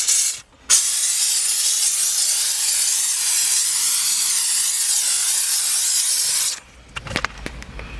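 A steam cleaner sprays a light mist over a car's interior buttons, a loud, steady hiss that holds for about six seconds, then cuts off into faint clicks and handling sounds.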